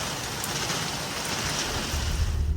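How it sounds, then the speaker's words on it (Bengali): Heavy rain pours steadily in a dense, even hiss with a deeper rumble swelling near the end, close and constant with no voices. "এখন পুরা দুনিয়া অন্ধকার করে বৃষ্টি শুরু হয়েছে"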